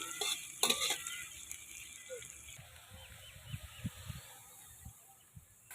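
Onions fry in a pan during village-style Bengali cooking of a steamed egg curry, a steady low sizzle and hiss with scattered stirring clatters and a few louder utensil knocks near the start.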